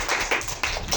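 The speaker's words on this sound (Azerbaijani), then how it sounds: "Alqışlayaq uşaqlar Fatiməni." Children clap for Fatima in a classroom on her birthday, a short burst of brisk, close, fairly loud applause from a small group, with no talk over it.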